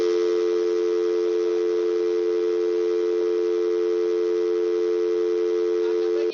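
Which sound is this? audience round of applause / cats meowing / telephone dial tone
telephone dial tone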